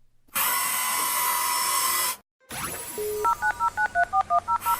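A telephone number is dialed, a steady dial tone lasting about two seconds, a brief silence, then a quick series of distinct touch-tone beeps, loud and close.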